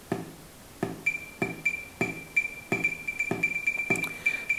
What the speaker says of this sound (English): you'll hear a kick is generated